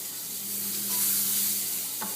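Onions tossed into a hot pan sizzle loudly and steadily up close, a dense continuous frying hiss with a brief knock near the end.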